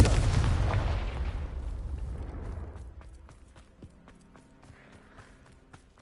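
A Confringo spell explodes in the Hogwarts video game with a loud, close blast that decays into a long rumbling tail. Faint game clatter and light impacts follow as it fades out.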